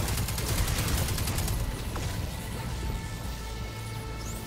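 Rapid gunfire pours at a boss in the sci-fi shooter Destiny 2, a dense, loud, continuous barrage that slowly thins out, with no voices.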